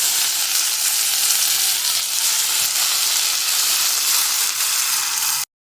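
Ingredients for amla rice, including chana dal, sizzling and frying in a pan, a steady bright hiss running continuously for several seconds with no talk, then cutting off abruptly.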